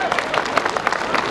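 Applause from the audience at a live Nepali stand-up comedy show, a dense, steady wash of many hands clapping that continues for the whole moment with no pauses.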